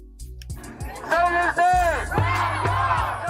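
Crowd at an evening rally in the heart of Kansas City, loud and close, with voices rising in shouted, chant-like swells and cheering bursts that build through the clip.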